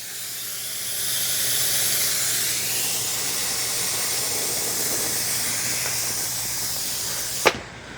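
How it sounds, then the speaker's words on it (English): A Shark steam mop puts out a steady, fairly loud hiss of steam that runs for several seconds, broken near the end by a brief sharp click. "Now the steam's really coming out"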